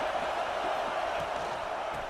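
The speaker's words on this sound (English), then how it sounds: "This crowd bringing an ear-splitting welcome to their visitors" A stadium crowd roars in the NCAA College Football 26 video game, a dense, steady wall of noise that holds at full volume without a break.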